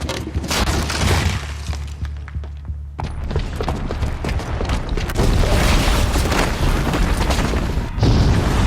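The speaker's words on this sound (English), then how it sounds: "the booby trap on the bomb downstairs is gonna get set off" A bomb explosion in Horizon Zero Dawn, set off by a booby trap, comes as a heavy boom around three seconds in, with rumbling, crashing debris and game effects continuing loudly to the end.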